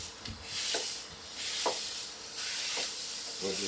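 Ground beef and onions browning over high heat: a continuous close steamy hiss with a few soft scrapes and stirs spaced through it.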